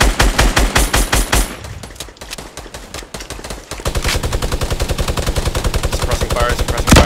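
Rapid bursts of gunfire in a Fortnite Battle Royale squads match, loud and steady, with sustained automatic fire through the second half and players talking under the shots.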